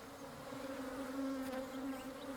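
Bees hum at a bee fence set up to keep crop-raiding elephants away, a steady, close, droning buzz that holds at an even level throughout.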